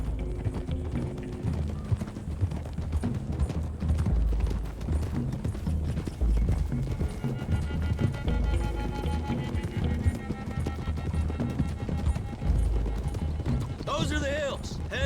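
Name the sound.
horses galloping, from video game Red Dead Redemption 2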